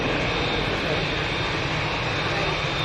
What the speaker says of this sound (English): That's the Singapore Airlines A350 going to Singapore.